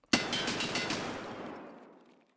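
A quick burst of shots from a 7-round gun emptied in the video game Tarkov Arena, starting with a sharp crack, rattling rapidly and fading into a long reverberant tail.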